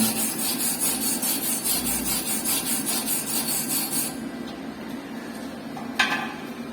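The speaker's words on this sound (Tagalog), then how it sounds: "Kailangan natin siyang gamitan ng steel brush para lumabas yung tunay na hinang natin" Steel wire brush scrubbing slag off a fresh SMAW (stick) weld during welding training, a steady rapid scraping rasp for about four seconds, then stopping, followed by a single sharp metallic clink.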